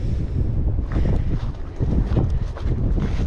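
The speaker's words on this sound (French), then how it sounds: "Avec le vent qui s'engouffre, ça m'étonnerait que vous allez m'entendre" Strong wind in Tarifa rushes into the microphone in loud, buffeting gusts, a continuous roaring rumble that surges and dips unevenly.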